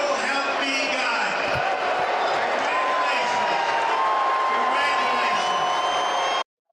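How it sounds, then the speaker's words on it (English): A crowd cheers, whoops and applauds continuously at a lively event, a loud dense roar that stays steady throughout before cutting off abruptly near the end. "Everybody's cheering."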